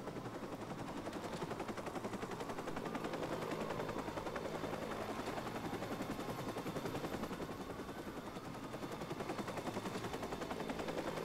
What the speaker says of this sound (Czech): Takže dostaneme vrtulník.